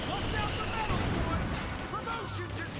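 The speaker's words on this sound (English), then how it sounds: "We're gonna start basically rapid firing right here" Rapid gunfire from a squad in the WWII strategy game Company of Heroes 2, a dense, continuous rattle of shots and distant booms layered with battle noise.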